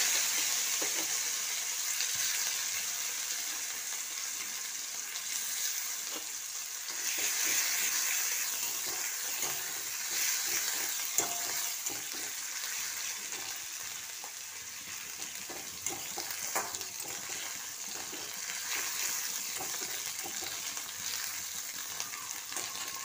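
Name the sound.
mashed cauliflower frying and sizzling in oil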